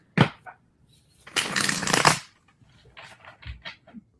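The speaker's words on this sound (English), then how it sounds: "I'm shuffling the cards." Tarot cards get shuffled by hand, with a short riffle, then a longer crisp burst of flapping cards, followed by several quick soft taps and shuffles, close up and with no voice over them.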